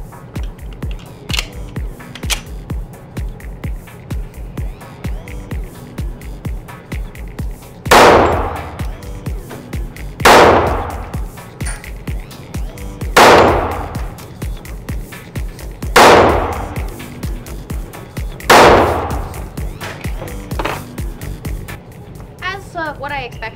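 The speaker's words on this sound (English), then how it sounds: "I'm going to shoot the Springfield Range Officer" Five loud, sharp pistol shots from a Springfield Range Officer 1911 ring out at a shooting range, spaced a few seconds apart, each with a brief echoing tail, after a stretch of quieter handling noise.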